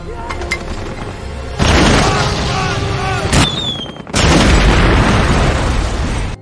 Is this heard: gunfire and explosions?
yes